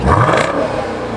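A 2019 Jeep Grand Cherokee Trackhawk engine revs hard in one loud surge, a deep rising roar that peaks early and then eases into a steady, sustained drone.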